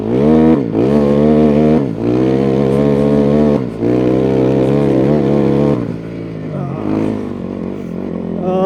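An old 2002 Honda CRF450R dirt bike fitted with a snow kit, ridden through deep soft snow, its engine loud and close with steady revving that dips briefly and surges again throughout.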